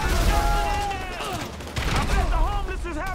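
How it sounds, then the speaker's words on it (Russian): Gunfire in GTA 5 blows up a couch, a loud burst of shots and booms over game noise, with someone talking excitedly in Russian over the sound. "Бляха, я диван взорвал."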